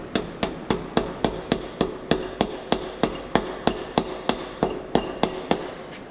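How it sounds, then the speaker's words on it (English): A brass hammer taps on an engine part during cylinder head assembly in a steady, even rhythm, about three sharp, close strikes per second, with nothing else heard. "try a little bit of love tapping just with a brass hammer"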